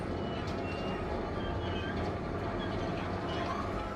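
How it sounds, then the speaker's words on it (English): A subway train ride in the Syberia 3 video game: a steady, low rumbling rail drone with faint rattling wheels, continuous throughout the ride. "This ride is the only way I've found to get to the park subway station."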